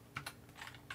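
A few quick keystrokes on a computer keyboard while typing a password, four or five soft clicks spread across a second, close and quiet with no talking.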